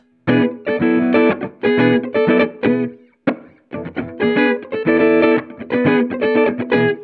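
Clean, round bass guitar notes from an Ernie Ball Music Man StingRay on the neck pickup, played in short melodic phrases with a brief pause midway, close and fairly loud, no voices.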